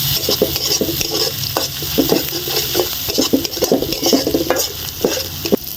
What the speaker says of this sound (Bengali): এবার দিয়ে দিচ্ছি পেঁয়াজ কুচি, দিয়ে দিচ্ছি রসুন কুচি। এগুলো ভালো করে ভেজে নেব।